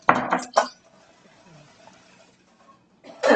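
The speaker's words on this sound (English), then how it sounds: "I'm going to mix that up." Utensil stirring Jell-O powder into boiling water in a cup, with clinking scrapes at the start, a quieter stretch of faint stirring, then another loud burst of clinks at the end.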